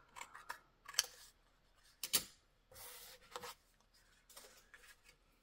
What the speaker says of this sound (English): So now I'll just come in and clip away that corner to reduce some of the bulk.